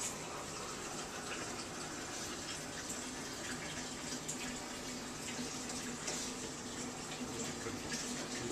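Tap water running steadily into a kitchen sink during cleanup while cooking potato pancakes, a continuous close, even hiss and splash with no talking.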